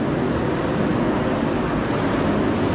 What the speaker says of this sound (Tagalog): malakas po yung ingay ng ulan galing po sa second floor